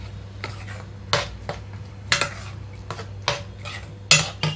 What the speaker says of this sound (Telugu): తాలింపు అంతటిలో కూడా ఈ చట్నీ కలిపేసుకుంటున్నాను